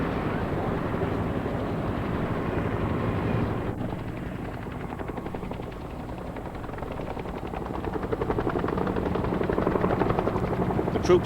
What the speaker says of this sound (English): the sky was too confused with helicopters, American-built Hueys, landing and taking off